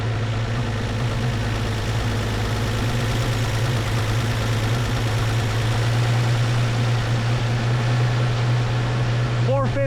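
A Chevy truck engine fitted with a rebuilt Rochester B carburetor idles steadily, a continuous low rumble with a constant hum that holds close and even throughout.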